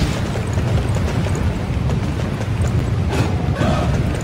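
A loud burst of explosive booms and crackling rumble in Dynasty Warriors 9, with a sharper blast near the end over continuous low noise.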